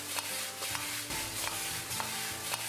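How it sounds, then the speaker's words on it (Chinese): Pork ribs are stir-fried in a hot wok with scallion, ginger and star anise, a loud continuous sizzle broken by rhythmic scraping strokes of a spatula about twice a second. "再把葱姜和八角放进来，继续翻炒均匀，炒出香味。"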